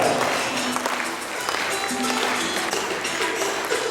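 At a spiritual programme, an audience claps steadily in welcome of Droupadi Murmu, a continuous mid-level patter of many hands under faint voices.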